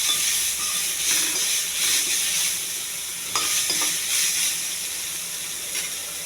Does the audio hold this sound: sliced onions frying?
yes